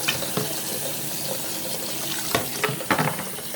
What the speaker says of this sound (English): Get a lot of hot water in there.